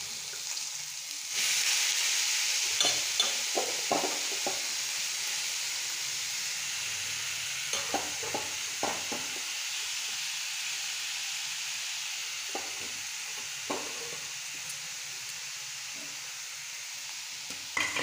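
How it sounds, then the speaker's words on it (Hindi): Kadi pieces frying in hot oil in a pan for a desi-style kadi and bhindi dish, a steady close sizzle with intermittent stirring clatters throughout. "आ कड्डी के टिके भाजी देमा"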